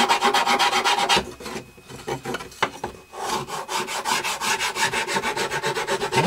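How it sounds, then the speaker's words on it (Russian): A wooden spatula, hand-carved, is smoothed with a hand file, giving steady rhythmic rasping strokes close up, with a short pause partway through before the filing resumes. "Пробежаться, просто снять, подровнять как раз напильником, удобно."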